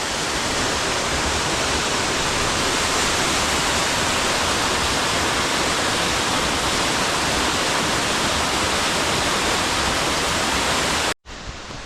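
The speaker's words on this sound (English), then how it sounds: "Okay, here's our first waterfall." A steady, loud roar of a forest waterfall beside an old road, broadband and constant, rushing without pause until it cuts off abruptly near the end.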